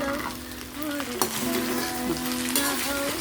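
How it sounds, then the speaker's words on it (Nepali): Steady sizzling of beaten rice (poha) frying lightly in a pan, with occasional scraping stirs against the metal, close and continuous, no voices. "अब यसलाई मैले फ्राई गर्छु, हल्का भुट्छु"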